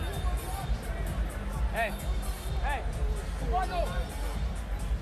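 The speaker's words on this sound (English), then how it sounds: "Crowd buzzing here at Radio City Music Hall." Crowd buzzing at Radio City Music Hall before a boxing event, a steady low murmur of many voices under a near commentator's talk.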